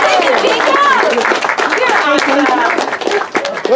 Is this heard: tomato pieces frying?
no